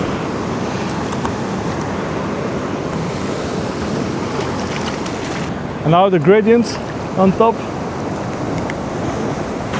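Sea waves crash and wash continuously on a French beach, a steady broad roar with wind buffeting the microphone throughout, while someone speaks briefly over it partway through.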